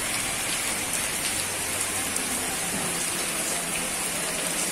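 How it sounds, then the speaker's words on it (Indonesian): Heavy rain pours steadily on the grounds of SMA Negeri 1 Ajibarang, a school, drenching the plants there as a dense, constant hiss of drops on surfaces with no break or voices. "kita lihat ya suasana hujan di SMA Negeri 1 Aji Barang. Hujannya sangat lebat ya."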